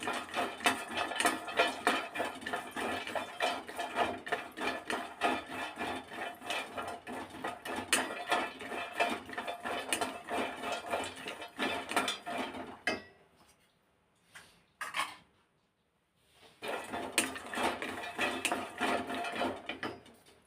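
Walnuts, pistachios and other dry fruits are dry-roasted in a pan for sugar-free dry fruit laddu, giving a steady rattling and scraping of nuts against metal under stirring, near and continuous, breaking into two short silent gaps before resuming.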